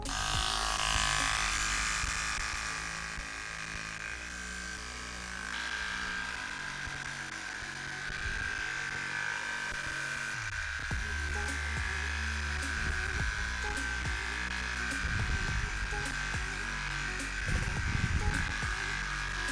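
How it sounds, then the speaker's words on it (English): Standard electric hair clippers cut a beard down to stubble with a steady, close, bright mechanical buzz that runs through the whole stretch, shifting slightly in pitch and texture as the blades move across the hair. "first we're going to have to start off with the standard clippers to take this down to a stubble."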